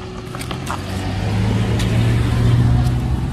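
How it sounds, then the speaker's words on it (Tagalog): A car on a narrow rural road near Batis Aramin in Lucban, Quezon, passes close by with a steady, loud engine rumble and tyre noise that swells slightly, with no voices heard. "Meron pong sasakyan, kaya tatabi tayo dito sa kaliwa"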